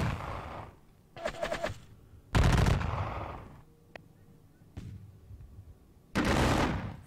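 Musket volleys ring out in a Napoleonic Battles Leipzig wargame, several separate bursts of crackling fire with quiet gaps between them, one sharp single report in the middle, and no talking.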